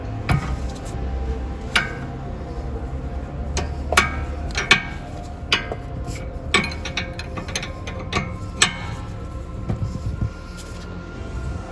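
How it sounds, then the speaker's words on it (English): A ratchet wrench tightens the tie rod jam nut on a 2012-2018 Nissan Altima 2.5L, close, rapid clicking in short bursts with a few sharper metallic clacks, heard alone. "Now tighten the jam nut at minimal level."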